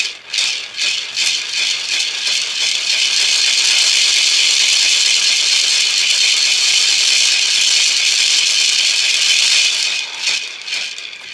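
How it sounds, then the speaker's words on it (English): A hand rattle is shaken and spun to swirl energy, a loud, dense, continuous hiss-like rattle with a few pulsing shakes at the start and end. "And that's what this rattle is used for."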